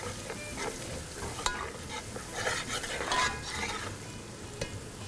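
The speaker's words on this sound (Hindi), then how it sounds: "क्योंकि धनिया को हमें थोड़ा सा भूनना पड़ता है।" Ground coriander fries in a pot of mutton karahi, giving a close, steady sizzle with scraping stirs and occasional metallic clinks against the pan.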